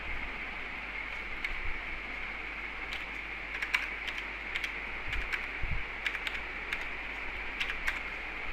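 Fingers tap at a computer keyboard while entering purchase-import voucher details, sparse light clicks in small irregular bursts over a steady hiss, quiet and close.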